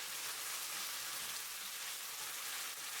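Pork with wood ear mushrooms stir-frying in a hot pan, giving a steady, even hiss of sizzling oil that runs without a break.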